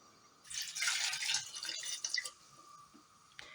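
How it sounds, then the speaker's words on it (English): Water poured into a pot of seasoned Brussels sprouts, a brief splashing pour of about two seconds, close and fairly loud, followed by quiet with a faint drip at the end. "Add some water."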